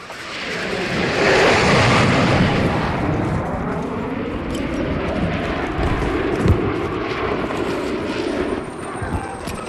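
In the video game Battlefield 6, an enemy helicopter passes over a battlefield as a loud, roaring engine rumble that swells early and then holds steady, mixed with distant explosions and gunfire.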